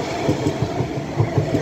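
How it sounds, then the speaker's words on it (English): A Class 331 electric multiple unit train passing at Wigan North Western station, a loud, close rumble with rhythmic wheel thumps over rail joints, steady and continuous with no talk. "now coming round the corner will be a 331 running from the next train to Liverpool Lime Street to Blackpool North"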